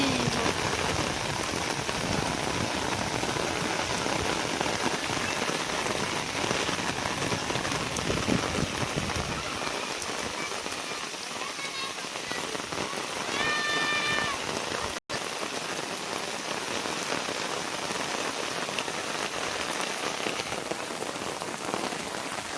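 Heavy rain pours down hard and continuously, a dense, loud hiss of drops drumming on surfaces all around.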